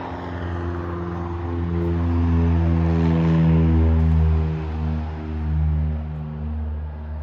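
A Royal Aircraft Factory B.E.2 biplane with a 90 horsepower engine turning a huge propeller, a loud, steady, close droning hum with deep throbbing tones that swell and dip slightly throughout.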